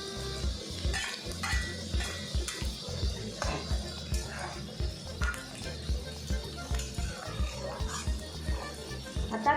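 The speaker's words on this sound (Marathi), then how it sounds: "कांदा 1 मिनिट परतून घेतल्यावर आपण यामध्ये हिरवी मिरची घालूया." Onion and green chilli sizzle in a pan while being sautéed, a steady fry with repeated scraping and clinking of a spatula against the metal, fairly close and continuous throughout.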